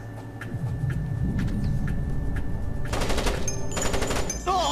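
Mounted cannon firing in the stealth game Splinter Cell, a rapid heavy burst of gunfire close up over an in-game ambient rumble, rattling steadily through the last two seconds.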